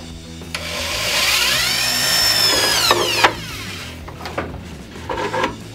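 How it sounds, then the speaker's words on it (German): A power drill whines steadily through wood with a wood drill bit, its pitch rising and falling as it bores, then cutting off into a few short bursts and clicks. "Und dann erstmal das Loch fertig bohren."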